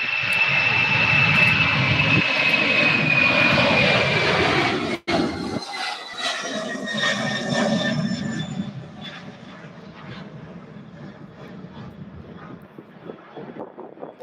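A UPS cargo plane on its takeoff roll at Louisville airport, bound for Miami: a loud, sustained jet engine roar with a high whine, briefly cut at one point, then easing into a quieter, steady rumble as it moves off.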